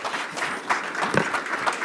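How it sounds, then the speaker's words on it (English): An audience at a social justice forum applauds a speaker, a short burst of dense clapping at moderate loudness. "let's just have a big round of applause for a wonderful speaker today"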